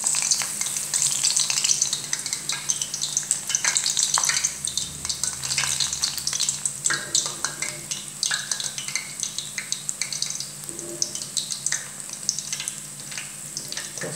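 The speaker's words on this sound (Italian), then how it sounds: "andiamo a friggere" Batter-coated stuffed courgette flowers fry in hot oil, giving a dense, steady crackling sizzle with constant popping bubbles, close and loud throughout with no voices.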